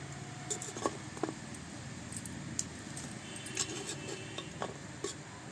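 Faint scraping and light metallic clicks as a knife lifts chitoi pitha, a steamed rice cake, off a clay pan on a wood-fired clay stove, quiet and sporadic.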